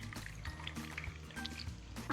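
Squeezed tamarind water pouring into a prepared rasam paste for Kerala rasam, a soft liquid trickle and splash heard near and moderately quiet, with no talking.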